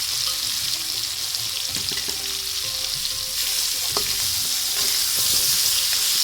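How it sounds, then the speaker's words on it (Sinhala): Meat frying over a low flame in a pan for maqluba rice made in a rice cooker: a steady, close sizzle that holds for the whole stretch, with scattered stirring clinks and scrapes and no talking. "දැන් මස් ටික මං චුට්ටක් බැදින්න ඇරියා"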